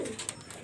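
Brief, soft cooing from an adult John Cena teddy pigeon in a new breeding pair, a single low throaty note at the start that quickly fades into near silence, with no voices.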